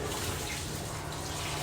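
Water splashes and swishes over raw rice in a rice cooker pot, a brief, faint, continuous washing sound up close.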